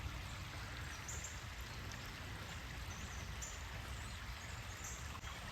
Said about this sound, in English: Looks like the creek's running pretty good this morning.